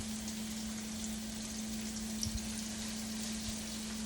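Shrimp frying in a pan: a steady, even sizzle with faint crackles, heard alone with no talking.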